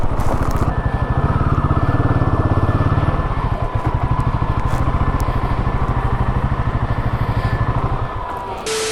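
A motorcycle on a mountain ride from Munsyari toward Dharchula near the Nepal border runs close by with a rapid, even, thumping engine beat, then cuts off abruptly at the very end as it is parked.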